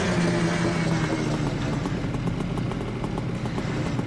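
Pontiac Banshee engine idling in Farming Simulator 25, a steady, close, low rumbling burble that holds evenly without revving and with no talk over it.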